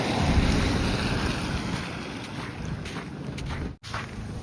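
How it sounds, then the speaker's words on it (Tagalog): Wind gusts during the first snowfall in Toronto, a continuous rushing roar with buffeting against the microphone that briefly cuts out near the end. "Hangin pa rin eh."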